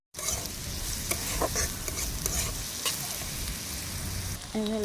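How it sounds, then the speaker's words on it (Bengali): Chopped onion, green chili and garlic sauté in a pan with a loud, close sizzle and busy stirring scrapes throughout, with no voices. "তো এখানে পেঁয়াজ, কাঁচামরিচ আর রসুন কুচি দিয়ে দিলাম। এবার এটা ভালো করে কষাই।"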